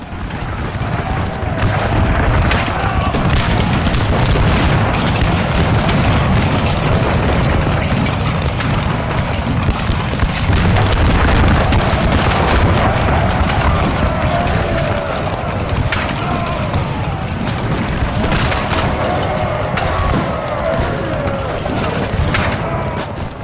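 Large-scale musket battle in Napoleon Total War, a dense continuous roar of crackling gunfire volleys and booming impacts, loud and steady throughout, with voices speaking over it.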